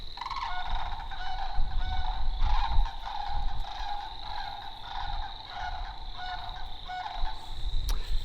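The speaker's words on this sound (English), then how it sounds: "if you hear it in the background, that's actually a sandhill crane" Rolling, trumpeting bird calls repeat steadily in the distance over low wind rumble, a sandhill crane's rattling bugle carrying across open ground in springtime.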